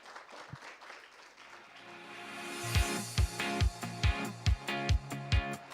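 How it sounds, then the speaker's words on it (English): Applause swells from scattered clapping into a full crowd, with strong, rhythmic claps punching through at a regular beat. "A round of applause, please."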